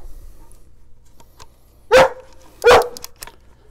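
A dog barks twice, loud and close, in a quiet indoor space, two sharp barks about a second apart after a near-silent stretch with faint rustling.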